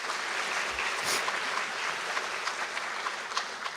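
An audience at a college foundation awards celebration applauds with steady, dense clapping that holds at an even level throughout.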